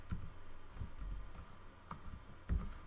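Computer keyboard keys clicking in a steady, uneven patter while code is typed, close and moderately loud with a few sharper key strikes and no voices.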